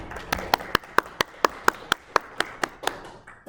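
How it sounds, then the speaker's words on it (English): Sharp, evenly spaced hand claps at a spelling bee competition, about a dozen distinct beats in a steady rhythm, close and fairly crisp against a quiet room. "let's give them a round of applause"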